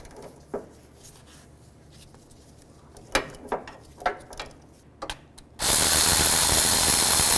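A ratchet fitted with a 13mm socket works a timing cover bolt loose on a 2010-2017 Chevy Equinox, giving a few sharp clicking bursts, then a loud steady hiss-like rush of noise in the last seconds.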